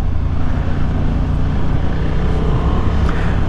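A Honda Hornet 750 motorcycle is ridden on the road, its engine drone blending with heavy rushing wind noise in a constant loud roar, with no talk.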